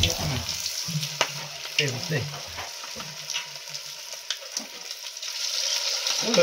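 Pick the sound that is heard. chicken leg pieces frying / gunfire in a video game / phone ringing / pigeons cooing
chicken leg pieces frying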